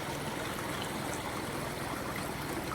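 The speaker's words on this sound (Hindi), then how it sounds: "ऐसे खूबसूरत से झरने गदेरे देखने को मिल रहे हैं" A mountain stream and waterfall near Kedarnath pour out a constant, dense rush of flowing water, steady and fairly loud throughout, with no voices.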